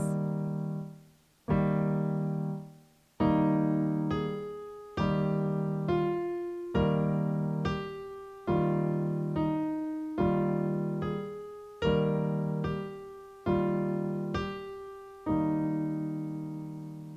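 Solo piano repeating a steady chord pattern, a bass note under regularly struck upper chords, about ten even strikes with no talking.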